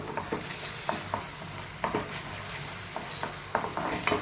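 Onion and tomato paste sizzle and fry in a pan for channa masala while a utensil stirs and scrapes with irregular clicks, close and moderately quiet, no talking.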